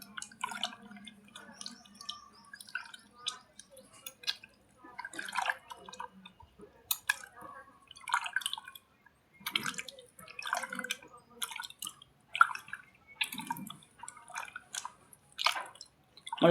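Soaked tamarind squeezed by hand in water to extract juice, with soft, wet squishing and dripping sounds in scattered bursts, faint and close, separated by quiet gaps.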